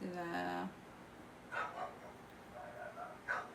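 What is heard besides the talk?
neighbor's dogs barking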